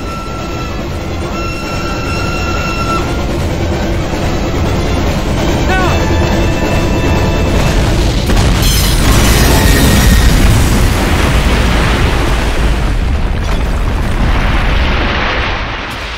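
A bridge blown up by explosives in Call of Duty: United Offensive, set on a train bridge in 1941, with a loud sustained rumbling blast and debris roar that swells midway and lingers before fading.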